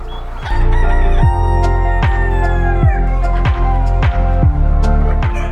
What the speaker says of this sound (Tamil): இது பார்த்தீங்கன்னா சேவல் இது பார்த்தீங்கன்னா பொட்டைக்கோழி